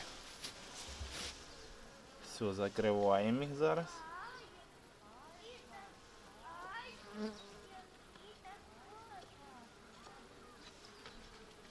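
Honey bees buzzing around brood frames during hive work, a soft steady hum beneath a person speaking close by, with faint clicks and handling noises.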